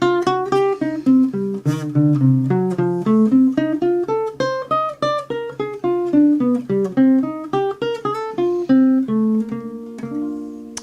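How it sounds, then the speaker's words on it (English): An electric guitar plays flowing single-note arpeggios over blues chord changes, each note picked distinctly in a steady rhythm, moving up and down through the chords without accompaniment. "if I play the changes over that with these kind of arpeggios we're learning"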